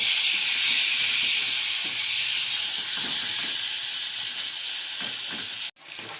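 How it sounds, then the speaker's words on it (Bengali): Tangra fish fry in hot oil in a wok, giving a loud continuous hiss and sizzle with faint clinks beneath, before a sudden brief drop near the end. "দিয়ে দিলাম মাছগুলো ভাজার জন্য।"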